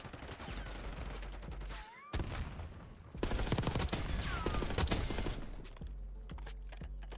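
Rapid gunfire in a Call of Duty Black Ops 6 match, dense bursts of shots with mechanical clatter, loudest in the middle stretch and thinning toward the end, no talk over it.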